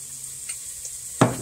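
Steady faint sizzle of onions cooking, with a brief sharper burst near the end as garlic cloves are added and stirred in; short and close.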